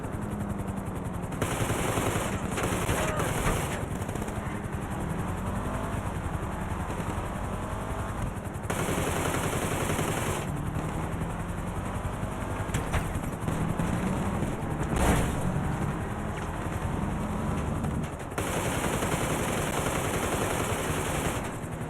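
Rapid automatic gunfire bursts in GTA 5 Online during an auto shop contract mission, loud, dense rattling volleys with helicopter-like rotor noise and brief pauses between bursts, no speech over them.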